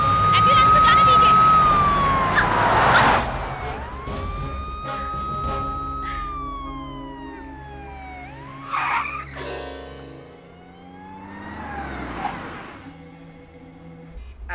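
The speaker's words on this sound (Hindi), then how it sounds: "आप लोग रुक जाइए, एम्बुलेंस को जाने दीजिए।" An ambulance siren wails and sweeps up and down in pitch, loud and close, fading and returning, with people talking over the traffic noise.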